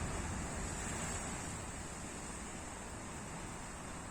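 Sea surf at the Gouffre de l'Étang-Salé blowhole on Réunion Island, a steady broadband wash of breaking waves mixed with wind noise on the microphone, continuous and fairly loud for the whole stretch, with no talk.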